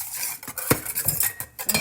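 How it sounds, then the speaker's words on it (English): A whisk scrapes and clatters quickly against a bowl, mixing dry cornstarch, sugar and salt, with close, sharp metallic taps in an uneven rhythm and no talking. "I'm just going to take my whisk and just sort of whisk that together"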